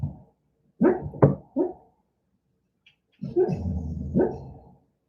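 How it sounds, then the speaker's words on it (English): A pet dog barks in her sleep, close and fairly loud, with a few soft muffled woofs and whimpers in a quick cluster, a silent gap, then a longer low grumbling growl-bark. "My pup is barking in her sleep."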